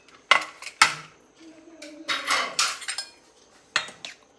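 A cooking pot of kichadi, a Kerala vegetable dish, is opened: sharp metallic clanks of the lid and utensil ring out in a few separate bursts, with scraping and rattling between them and no talking.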